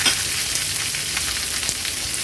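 Onion and green chillies drop into a hot tempering of mustard seeds and cumin, setting off a loud, steady sizzle of frying that fills the pan, with the faint scrape of stirring and no voices.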